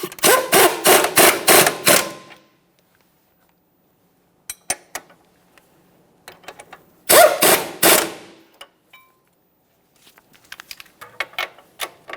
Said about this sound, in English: Let's snug them up and torque these to 116 foot-pounds.